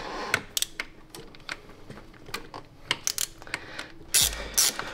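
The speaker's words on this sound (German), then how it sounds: "Fingerratsche" A finger ratchet clicks in quick irregular bursts while tightening a bolt on an Audi engine during reassembly, close and crisp, with small metallic knocks and a louder clatter near the end.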